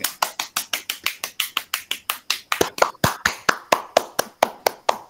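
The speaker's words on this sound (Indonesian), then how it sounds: "Tepuk tangan dulu ya Kak." A group claps hands together in a fast, even rhythm, about thirty sharp claps that grow slightly louder and more forceful partway through, close and clear with no talking.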